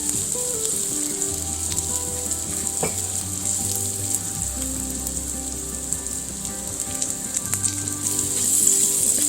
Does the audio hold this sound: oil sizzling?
yes